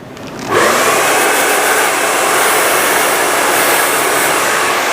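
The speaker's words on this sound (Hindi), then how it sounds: "एक ठंडा ड्रायर में मार रहा हूँ जल्दी इसको ठंडा करने की" Blow dryer blasting cool air onto hair being rolled inward for volume during a blow-dry styling lesson; it switches on abruptly and holds a loud, steady, close roar.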